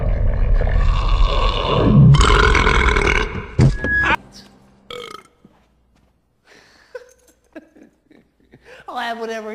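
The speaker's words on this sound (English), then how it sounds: "Hang on, I got a burp snort coming." A loud, drawn-out burp with a rough snorting roar, followed by brief grunts and scattered vocal noises, then a rising laughing or squealing voice at the end.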